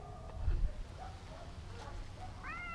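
A domestic cat gives a short, fairly close meow near the end, rising and falling in pitch, over low background rumble.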